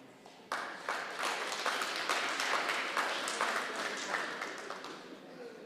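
A crowd of taxi-industry members claps their hands at an indoor gathering, a steady wash of many hands that starts abruptly and holds loud throughout, with some voices mixed in.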